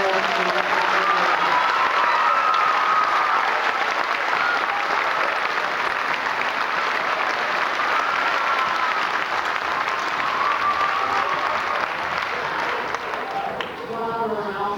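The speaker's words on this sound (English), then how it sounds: "could I have a round of applause for all the soloists?" Audience at a fifth-grade school Christmas concert applauds the soloists, a dense, steady wash of clapping from a large crowd that holds loud throughout and thins slightly at the end.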